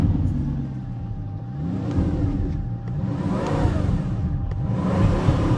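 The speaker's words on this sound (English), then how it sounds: "Bugatti Chiron Super Sport." A Bugatti Chiron Super Sport engine revs in a few rising and falling surges, loud and close, with a steady rumbling whir between the pulls and no voices.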